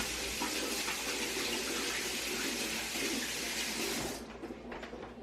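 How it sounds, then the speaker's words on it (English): Water runs steadily from a kitchen tap for hand washing, a loud continuous rush that stops abruptly near the end, leaving faint drips and handling sounds. "I will wash my hands"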